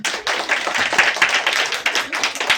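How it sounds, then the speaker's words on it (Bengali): An audience at a children's performance breaking into dense, continuous clapping that stays steady and fairly loud from start to finish, with no talk over it. "ওর জন্য সবাই একটু হাততালি দাও"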